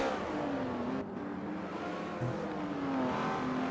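A Porsche race car in a racing video game roars down a straight, its engine note rising and falling through steady high revs, with one brief dip near the middle; loud and close, no talk.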